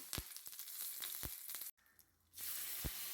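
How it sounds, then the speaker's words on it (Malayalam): Tempering for a white coconut chutney sizzles and crackles in a hot pan. The bursts are crisp, close and uneven, then drop out briefly before a steady hiss resumes. "ഇനി ഞാൻ നേരത്തെ പറഞ്ഞ വെള്ളച്ചമ്മന്തി ഞാൻ താളിച്ചെടുക്കുകയാണ്"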